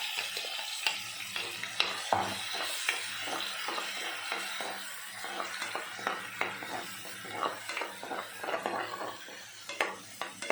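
Onion and tomato paste stirred in a frying pan for a ladies finger curry, with a steady sizzle under frequent scraping and clinking strokes of a utensil against the metal pan, close and moderately loud, no talking.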